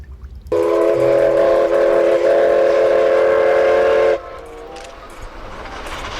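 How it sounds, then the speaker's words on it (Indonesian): A Thomas the Tank Engine toy train gives a loud, steady whistle-like electronic tone for several seconds, then cuts off, leaving softer background noise. "ternyata kereta api Thomas"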